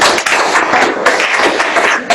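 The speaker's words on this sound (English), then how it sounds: "let's give her a big round of applause" An audience at a talk gives a speaker a big round of applause, dense and loud continuous clapping with no voices over it.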